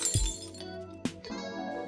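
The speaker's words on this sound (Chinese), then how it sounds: "杯子摔破" A glass cup used as a sound effect, hitting hard and shattering with a bright crash, followed by a second sharp impact and lingering ringing tinkles of breaking glass.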